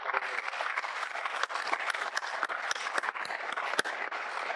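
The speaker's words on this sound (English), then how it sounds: "a big round of applause" Audience applause at a Dayananda Sagar Institutions gathering in Bangalore, a steady dense wash of many hands clapping with sharp individual claps popping out, continuous and fairly close throughout.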